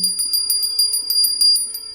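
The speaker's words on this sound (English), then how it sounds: "Slightly play the bell." A Hindu puja hand bell rings in a quick, regular series of bright metallic strikes, about a dozen in two seconds, close and clear with a sustained shimmering tone and no talk.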